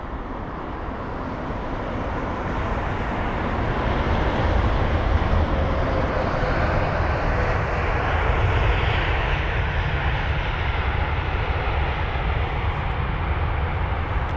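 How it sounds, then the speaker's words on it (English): An Airbus A350 airliner at London Heathrow roars loudly and steadily, a broad continuous engine rumble that swells slightly after the opening seconds and holds with no voices. "Now the A350 is registered as Golf X-Ray Whiskey Bravo Lima"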